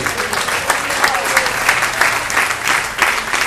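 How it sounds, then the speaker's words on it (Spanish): Church congregation applauding during a sermon on prophetic events, a dense sustained wash of many hands clapping at close range, steady and loud for the whole stretch with faint voices mixed in. "Denle un aplauso"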